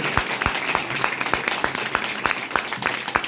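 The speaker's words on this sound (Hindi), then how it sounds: "एक जोरदार ताली दीजिए डॉक्टर लिम के लिए।" An audience at a DXN business program in Bhagwanpur, Uttar Pradesh, India, claps in a steady rhythmic beat, about three claps per second, over a noisy hall background.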